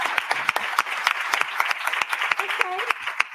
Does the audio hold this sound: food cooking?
no